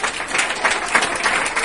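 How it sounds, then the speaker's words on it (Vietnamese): Audience at a Vietnamese concert applauds a singer with brief, dense clapping that stays loud and even throughout. "Hãy dành một tràng pháo tay để"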